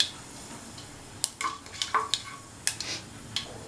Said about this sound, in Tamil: கடுகு பொரிஞ்சிடுச்சு, 1/2 டீஸ்பூன் வெந்தயம்.